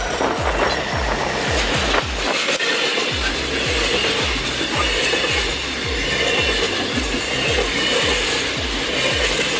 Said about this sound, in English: General Motors FP9 locomotive clears snowdrifts in Ontario